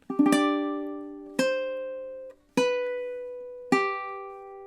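Ukulele plays a measure of a song: four separate plucked strums in a slow, even rhythm, each ringing out and decaying before the next, close and clean with no voice.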